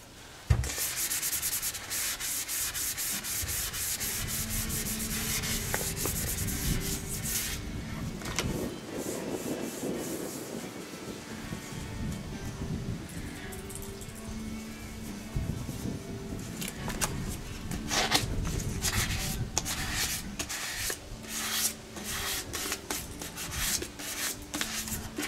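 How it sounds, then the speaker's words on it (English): Hand sanding a Warmoth Jazzmaster guitar body with 800-grit sandpaper: steady, close, loud scratchy rubbing strokes that continue almost without pause, brightening and thickening in bursts, with no talking. "I'm gonna just hit them with a 800 sandpaper"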